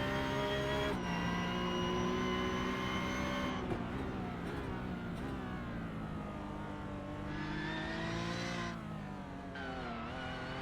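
A Porsche Cup race car engine roars continuously, its pitch rising and falling as it revs and shifts gears along the track, running over a curb.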